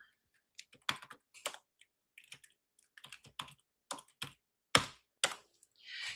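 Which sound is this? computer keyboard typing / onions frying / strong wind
computer keyboard typing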